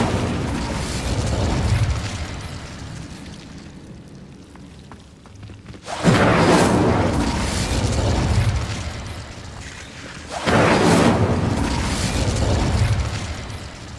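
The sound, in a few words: Incendio fire spell blasts in the video game Hogwarts Legacy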